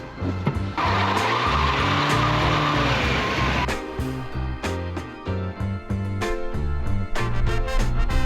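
A British Mini Clubman is driven hard, its engine revving loudly while the tires squeal and skid, followed by rapid, choppy bursts of engine and tire noise close by.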